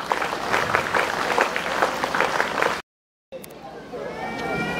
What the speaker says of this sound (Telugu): పార్టిసిపేషన్ దా ఒకవేళ ఉంటే గట్టిగా 1-2, 1-2-3 స్టైల్లో ఒకసారి క్లాప్స్ కొట్టండి